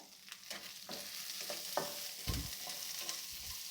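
Onions, garlic and cumin sautéing in a pan for a Tamil spinach kootu, a steady soft sizzle with intermittent scrapes and taps of a stirring spoon, no talking.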